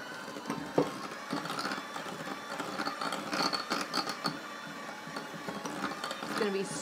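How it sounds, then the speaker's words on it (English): A lemon is zested on a grater for an almond ricotta cake, producing repeated scratchy, rasping strokes in an irregular rhythm, close and fairly quiet. "Nonna is getting every bit of zest off that lemon"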